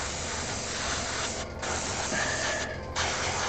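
Spray can priming a miniature: steady close hissing in three bursts separated by two brief pauses, with a faint rattle underneath.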